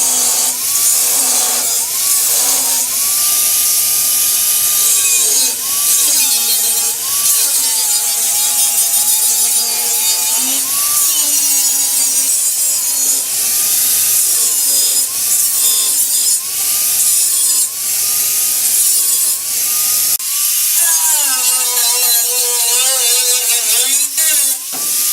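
A power cutting tool grinds through the rotten metal trunk panel of a rocket car under restoration, a loud continuous whining cut whose pitch rises and dips, shifting tone near the end.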